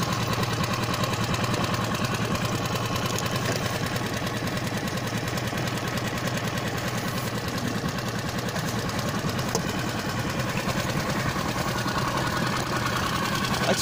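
A Tohatsu MFS5CSS four-stroke petrol outboard motor runs close by at a steady idle, a continuous rapid knocking putter with a dense mechanical rattle, unbroken throughout and without talk.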